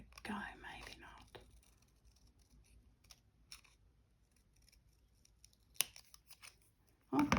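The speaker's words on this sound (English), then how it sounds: "I'm going to chop the end with my scissors" Scissors snip through card during Christmas card making, a few short sharp cuts scattered between soft rustling, with quiet speech near the start.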